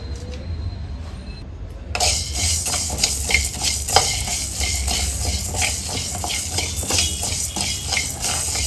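Peppercorns, coriander and cumin seeds are dry roasted in a pan for pepper chicken. After a quiet start comes a continuous scraping and rattling of stirred seeds with a faint sizzle, close and fairly loud.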